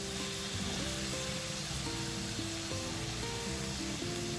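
Tomatoes and coconut fry in a pan with a loud, continuous close sizzle, while tonal music plays over it and nobody speaks.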